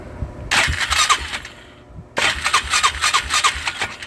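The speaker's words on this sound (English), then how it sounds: "it sounds like it cranks just fine" A Polaris Magnum 325 ATV's electric starter cranks in two bursts, a whirring, chugging churn that stops briefly before cranking again, close and loud without the engine catching.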